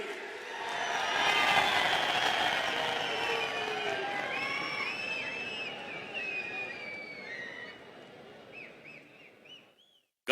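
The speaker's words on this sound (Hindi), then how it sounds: "आपकी जोरदार तालियों के बीच" A large crowd at an inauguration ceremony applauds and cheers loudly, building quickly and then slowly fading over several seconds, with scattered whistles and shouts before the sound stops abruptly.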